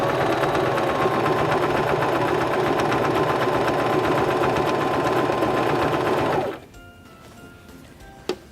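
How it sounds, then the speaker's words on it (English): A Singer Start 1306 sewing machine stitches one side of a buttonhole in a fast, even mechanical whir that runs for several seconds, then stops abruptly, leaving quiet with a single small click at the end. "now we can press on our foot control and sew the left side of our buttonhole"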